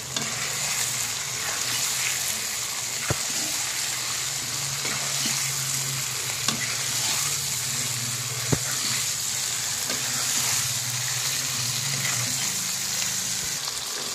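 Ingredients for gabus pucung, a Betawi fish dish, being stirred in a sizzling pan: a continuous close hiss of frying broken by occasional sharp scrapes and clinks of the spoon, with no talking.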